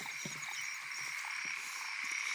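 Frogs croak steadily in a rice field at night, a dense chorus of repeated calls close by, with a constant high insect drone running underneath.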